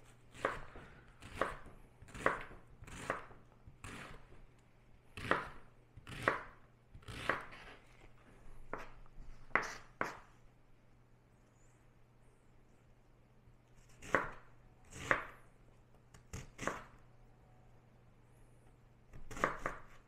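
A knife chops through an onion on a board during Sunday meal prep, with sharp, distinct cuts in irregular bursts, a pause midway, then a few more strokes, close and fairly quiet.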